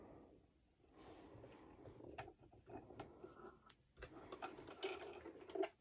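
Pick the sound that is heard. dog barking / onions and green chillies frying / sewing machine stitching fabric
sewing machine stitching fabric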